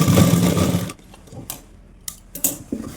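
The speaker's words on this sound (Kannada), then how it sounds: "ಮತ್ತು ಅಲ್ಲೇ ಇನ್ನೊಂದು ನಾನು ಸ್ಟಿಚ್ ಹಾಕೊತಾ ಇದ್ದೀನಿ." A sewing machine stitches a readymade nighty in a short, fast mechanical whir that stops after about a second, leaving a few soft clicks and fabric handling noises.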